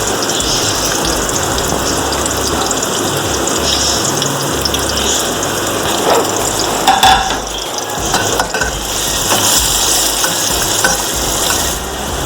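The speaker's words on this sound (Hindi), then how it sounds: "अब मैं इनको फ्राई कर रही हूँ।" Chopped medium onions frying in a pan for beef gola kabab curry, giving a continuous dense crackling sizzle like rain that runs the whole time, close and fairly loud, with a few brief scraping stirs.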